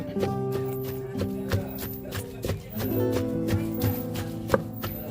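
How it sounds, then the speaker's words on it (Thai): Pork skin and garlic pounded in a mortar with salt for Thai fermented pork, giving steady, heavy thuds in a repeated rhythm, close and loud, with a faint voice in the background. "โขลกให้นิ่มเลยนะคะ โขลกหนังหมูให้นิ่ม หนังหมูกับกระเทียม"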